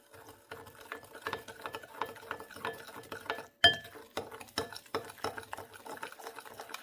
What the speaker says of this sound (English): sodium bicarbonate and the corn flour. And we're going to give it a good mix.